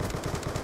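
Rapid automatic gunfire from the PC game Call of Duty: Black Ops 2 in a Team Deathmatch round, a steady, dense burst of shots with no talking.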